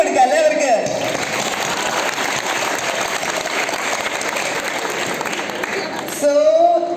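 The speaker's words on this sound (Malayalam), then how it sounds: "അപ്പൊ നമുക്കൊരു വലിയ കൈയടി കൊടുക്കാം അല്ലേ അവർക്ക്" Audience applause at a school annual day event in Dhanuvachapuram, a dense sustained wash of clapping lasting several seconds, bracketed by a voice at the start and end.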